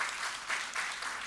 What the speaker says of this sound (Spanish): Para los padres ya aplauso